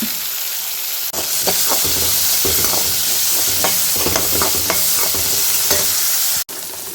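Onion and tomato sautéed for a brinjal and drumstick sambar, with loud close frying hiss and repeated spatula scrapes and taps against the pan, cutting off briefly near the end.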